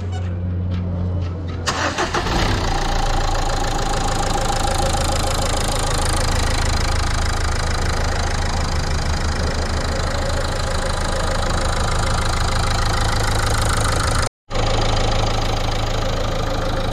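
A Renault Clio 4 engine cranks briefly and catches, then settles into a steady, close idle with an even mechanical hum and a faint ticking texture, broken once by a short dropout near the end.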